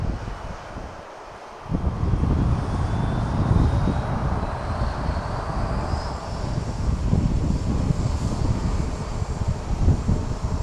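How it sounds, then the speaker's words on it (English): A Bombardier Global business jet landing at Dallas Love Field: a broad engine roar swells in after a quiet moment and holds loud and steady, with gusty wind buffeting the microphone. "here comes a global that's landing"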